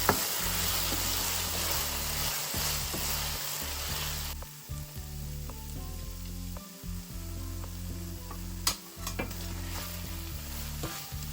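Sundakkai (turkey berry) fry being stirred with curry masala in a pan, a steady close sizzle with repeated scraping stirs throughout, a few louder clanks of the spoon against the pan, no voices.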